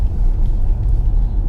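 A 2018 Mustang GT with a six-speed manual pulls away in traffic, its engine giving a loud, close, low rumble that holds steady through a brief moment with no talking.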